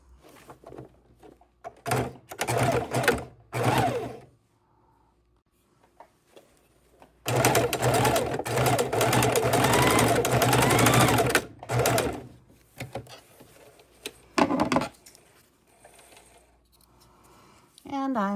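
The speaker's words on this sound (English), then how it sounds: "I happen to be sitting in front of a sewing machine, so I am going to go ahead and stitch them together" A sewing machine stitching the ends of elastic together for a baking dish cover, running in short bursts and then one long steady whir of stitching, with quieter pauses, small handling clicks and some nearby talk.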